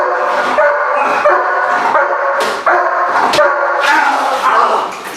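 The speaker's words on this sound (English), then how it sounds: "it's called a bark and hold in the training world" Protection dog barking during bark-and-hold training, a fast run of loud, close barks in rapid succession with brief sharp peaks, continuing throughout.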